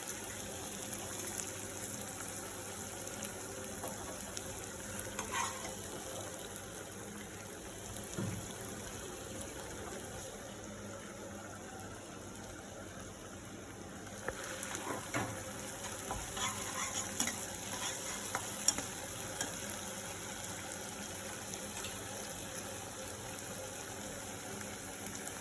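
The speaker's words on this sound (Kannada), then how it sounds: "ಒಂಚೂರು ಫ್ರೈ ಆದಮೇಲೆ ಕೆಚಪ್ ಹಾಕ್ತೀವಿ." Vegetable Manchurian balls fry in a pan as ketchup is added, giving a steady low sizzle under faint scraping and stirring throughout, with a few soft clinks.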